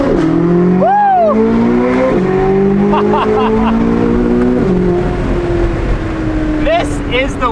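A C8 Corvette Z06 fitted with a titanium exhaust and stock downpipes screams through rapid upshifts with windows down among buildings, a loud high-pitched race-car wail with sharp pitch steps and a whoop of voice.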